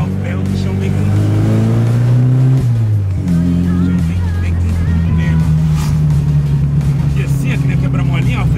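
A Chevrolet Chevette engine revs hard and pulls as the car accelerates, a loud, steady drone that rises and shifts in pitch close to the microphone, with a voice speaking over it.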